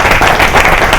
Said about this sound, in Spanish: Falta un aplauso,